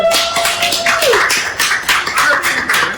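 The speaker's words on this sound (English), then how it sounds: "Let's get a round of applause for them, everyone." Studio audience applause in a radio studio, a dense steady patter of claps filling the whole stretch at close range, with a tone gliding downward early on and no clear talk.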